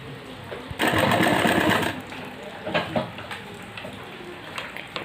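A sewing machine stitches tucks into palazzo pants, running in a loud rapid burst of stitching that is followed by quieter intermittent clicks and handling noises.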